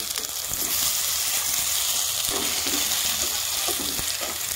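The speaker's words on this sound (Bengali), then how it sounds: "দেখো এইভাবে আমি সবগুলো ঝিঙ্গা ফ্রাই করে নেব।" Ridge gourd slices coated in gram-flour batter fry in oil with a steady, dense crackling sizzle, close and continuous, with faint clinks of a utensil now and then and no voices.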